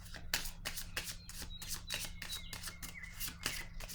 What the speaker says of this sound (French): attendez une minute, je vais déposer quelques autres cartes sur l'intuition